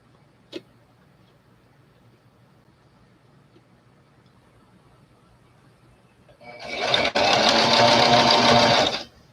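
A sewing machine stitches a ruffle on antique-style doll underwear, running in one loud, steady burst near the end after a long quiet stretch with a single faint click early on.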